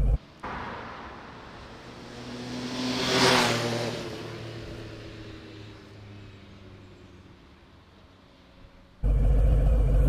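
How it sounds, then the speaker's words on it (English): A 2020 Harley-Davidson Sport Glide with its Milwaukee-Eight engine idles nearby with a steady low rumble that swells briefly and then settles, with talk over it before the sound cuts out near the end. "it's the old familiar sound, although this is the Milwaukee 8 engine"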